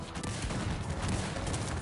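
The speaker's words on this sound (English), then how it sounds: "All this artillery." Massed artillery and musket fire in the real-time strategy game Cossacks 3, a dense, continuous crackle of volleys and booms mixed loud throughout the battle.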